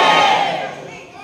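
Villagers protesting at the Banjardowo village office raise a loud, massed shout that swells at once and then fades within about a second.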